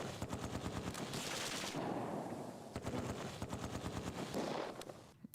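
Rapid repeated gunfire and mortar blasts in the Close Combat 2 war video game, dense bursts of crackling shots in two long volleys separated by a short lull.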